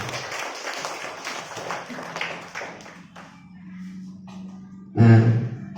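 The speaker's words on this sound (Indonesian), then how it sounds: "tepuk tangan dulu mungkin untuk kita semuanya" Clapping from a school gathering about positive school culture, a scattered patter of hand claps with crowd murmur that thins out after a few seconds, followed by a short loud thump near the end.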